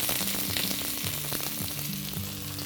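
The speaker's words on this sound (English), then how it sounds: "Let's saute all this very well for about a minute or so." Scallions and celery sauté over very low heat in a pan for fried rice, giving a steady close sizzle with light stirring scrapes and a faint low hum running underneath throughout.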